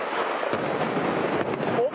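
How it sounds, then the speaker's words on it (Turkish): An ammunition depot in Afrin keeps exploding, a dense crackling roar with a couple of sharper cracks bursting through, loud and continuous from a distance. "Dakikalardır kayıttayız ve dakikalardır patlama yaşanıyor orada."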